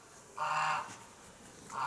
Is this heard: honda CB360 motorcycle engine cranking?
no